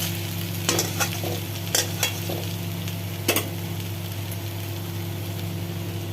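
A sauce of oyster sauce, vinegar and tomato ketchup simmers in a pan for rice noodles, a soft continuous bubbling hiss over a steady low hum, with a few sharp clinks of a utensil against the pan.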